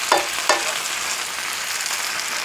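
Brussels sprouts and spinach sizzle steadily in a pan, a close, continuous frying hiss with two quick stirring scrapes near the start.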